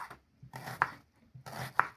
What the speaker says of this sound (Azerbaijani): Doğrayırıq.